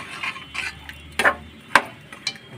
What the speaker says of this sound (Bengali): সুন্দরভাবে নাড়া দিতেছি।